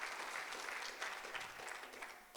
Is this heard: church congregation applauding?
yes